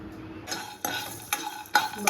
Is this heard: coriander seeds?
yes